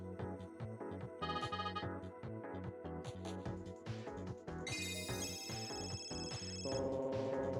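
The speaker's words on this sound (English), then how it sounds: "Ah, the phone. Who could it be?" A phone rings in the video game Custom Robo, a bright electronic ringtone melody with layered synth tones repeating over a steady musical backing, no voices.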